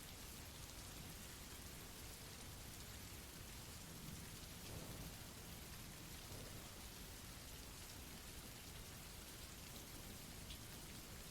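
Steady heavy rain pours without a break, a dense even hiss of drops on surfaces with a faint low rumble of thunder underneath, constant and close throughout.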